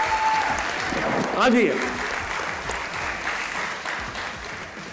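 Studio audience applauding a guest's entrance on a Pakistani comedy talk show, steady dense clapping throughout with a brief spoken word and a whistle-like cheer rising above it.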